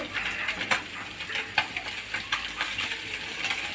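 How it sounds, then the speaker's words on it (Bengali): Fish pieces fry in a pan with a continuous oily sizzle, broken by soft scraping and stirring strokes at an irregular pace, close and moderately quiet. "সুন্দর করে উল্টে তারপরে একটু সুন্দর করে ভাজি করে"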